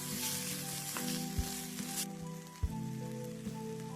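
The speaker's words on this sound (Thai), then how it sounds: "ขิงกระเทียมพริกแห้งก็จะนำมาผัดรวมกันเช่นกันค่ะ" Ginger, garlic and dried chili stir-fried together in a pan while cooking a tomato sauce, giving a steady crackling sizzle with a few sharp knocks from a utensil against the pan.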